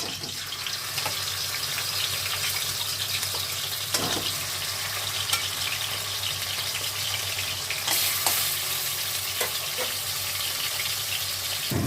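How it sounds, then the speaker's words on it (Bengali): Fish frying in hot oil in a heated wok, a loud, steady, close sizzle running throughout with occasional sharper spatters and stirring clatter, no voices. "এবার মাছগুলো ভাজতে থাকবো"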